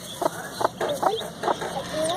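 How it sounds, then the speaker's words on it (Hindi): Several short clucking calls from an Egyptian chicken chick, repeated in a loose rhythm, fairly close with faint background noise. "मिस्री मुर्गी का बच्चा है ये, इतना भारी।"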